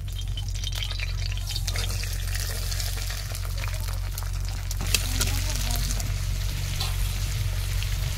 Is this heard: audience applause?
no